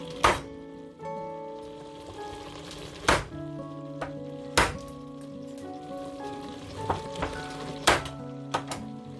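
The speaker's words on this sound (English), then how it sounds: "A couple of swift bashes of the cleaver and we're through that bone." Several sharp, heavy chops strike at irregular intervals, each a hard thwack of a cleaver hitting lamb bone on a board, with faint background hum between.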